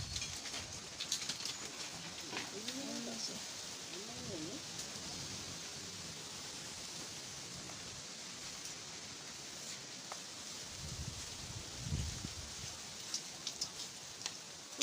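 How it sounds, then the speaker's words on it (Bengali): Steady storm rain patters down without pause while a dove coos softly and other birds call now and then in the background. "আর দেখো বৃষ্টি শুরু হয়েছে ঝড় বৃষ্টি"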